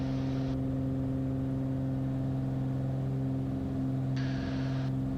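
A light aircraft's engine runs steadily at takeoff power during the takeoff roll on runway 14R, a loud continuous drone with strong harmonic tones and broadband airflow noise, unchanging throughout.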